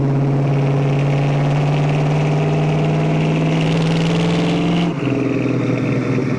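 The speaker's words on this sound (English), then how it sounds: "it definitely has a louder exhaust on it than I prefer" A 1966 Ford Mustang Fastback with a loud aftermarket exhaust drones steadily while driving, a deep throbbing engine note that holds even and then drops abruptly as the throttle eases near the end, with no talking.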